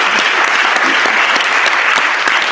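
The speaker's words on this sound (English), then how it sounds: "Quick round of applause for our judges." Enthusiastic audience applause for the judges at an MIT Media Lab hackathon's final presentations, a dense, loud burst of clapping that continues without a break.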